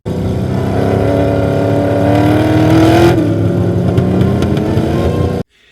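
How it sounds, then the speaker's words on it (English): The 1968 Dodge Charger called General Mayhem revs its engine in a loud, sustained roar that climbs in pitch, then drops back and cuts off abruptly, close up with no talking. "David Freiberger's Roadkill 1968 Dodge Charger known as General Mayhem."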